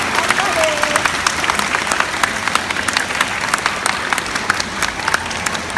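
Sustained, even applause from a stage-show audience, a thick wash of many clapping hands lasting several seconds, with a faint voice briefly audible near the start.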